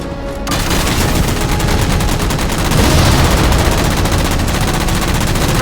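Sustained loud automatic gunfire in Halo 4, a dense continuous stream of rapid shots fired at jammers, with no pauses across the whole stretch.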